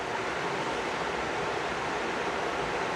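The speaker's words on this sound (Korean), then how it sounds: "물소리 시원합니다." Flowing water rushes beside a cliff at a car-camping spot, a steady, dense broadband hiss with no breaks, moderately quiet and without voices.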